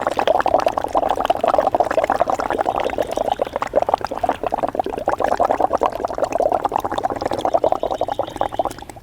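Steady bubbling and gurgling from breath blown slowly through a bent straw into water during a breathing exercise, continuous and close for the whole stretch with no talk.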